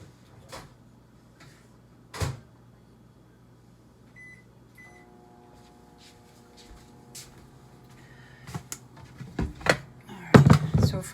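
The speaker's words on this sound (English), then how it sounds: "I'm just going to pop this in the microwave." A kitchen microwave oven is handled with a few sharp clicks and clunks of its door and buttons, then a low steady hum as it runs, ending in a cluster of louder knocks close by.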